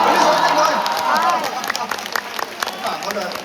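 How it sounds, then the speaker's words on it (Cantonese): Audience applause and cheering after a Cantonese opera performance of Tai Nui Fa's Reincarnation of Red Plum (再世紅梅記) curtain call, a dense wash of clapping that thins into scattered claps. "俾啲掌聲"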